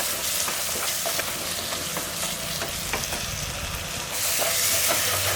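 Vegetables sauté with garam masala for vegetable dum biryani, giving a close, steady sizzle broken by repeated scraping taps of stirring. The frying swells louder near the end.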